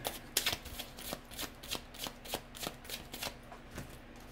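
Tarot cards are shuffled by hand in a quick series of crisp riffling flicks and soft slaps, close and fairly quiet, with no voice.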